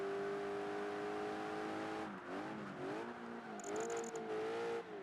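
Engines of classic sports cars, a Ferrari Testarossa and a Lamborghini Countach, drone in Project Gotham Racing 3 on a Regent Street course, a steady hum whose pitch dips and climbs through gear changes, fairly quiet with no talk.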